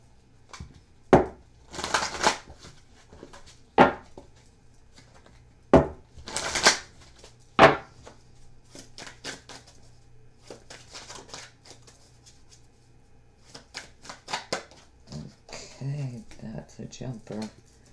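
Tarot cards handled and shuffled on a table, with sharp slaps and snaps of cards being laid down, a few louder, scattered among softer riffling and rustling while someone talks over it.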